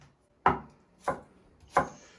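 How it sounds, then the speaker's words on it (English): Carrots are chopped on a chopping board with a knife, three sharp separate knocks spaced about half a second apart, close and clear with quiet between them. "just laying my carrots on my chopping board, like so, I'm just going to chop these into 1/2 centimetre squares as well"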